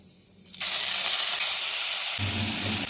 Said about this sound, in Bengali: হালকা নেড়ে চেড়ে রসুন আর আদা বাটা